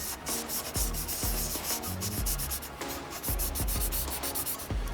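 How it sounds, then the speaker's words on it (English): Steady rhythmic rubbing of wet sandpaper over an aluminum Honda Civic wheel, close up, with repeated back-and-forth strokes and occasional soft knocks, no talking. "We're wet sanding with all these grits."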